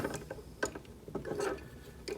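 Ratchet joints on a Transformers figure standing on a FEXT System display stand clicking as the limb is moved forward and back, a run of small dry clicks at close range in a quiet room.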